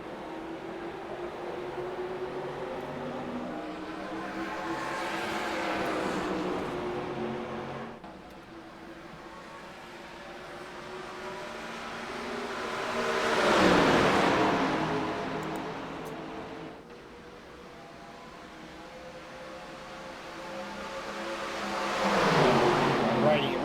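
Packs of 1987-style stock cars in a Talladega Superspeedway racing game, engine drones swelling and fading as groups pass by in waves, with a commentator talking over them.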